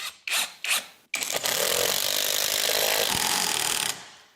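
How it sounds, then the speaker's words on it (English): Two short mechanical bursts, then a long, loud, continuous rattling whine of an impact wrench driving large lag screws, running steadily for several seconds before cutting off. "an impact wrench is more suitable when you're driving big lag screws like this"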